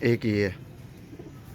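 Pigeons cooing softly on a rooftop loft in Sialkot, low murmuring coos under a nearby man's brief speech, continuing faintly afterward.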